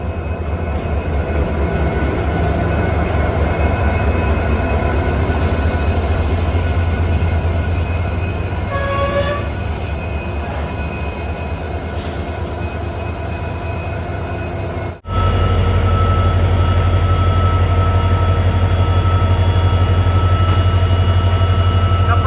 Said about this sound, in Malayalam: ഇനിയിപ്പോൾ നമ്മുടെ ട്രെയിനിൻ്റെ ഇവിടെ കപ്പിൾ ചെയ്യും.